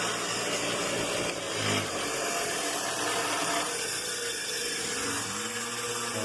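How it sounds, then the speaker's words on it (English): A lawn mower runs next door, a dense, continuous mechanical drone that stays loud and steady, with a lower humming motor tone joining near the end. "the guys next door mowing. You hear them?"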